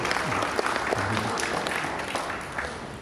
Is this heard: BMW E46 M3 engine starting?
no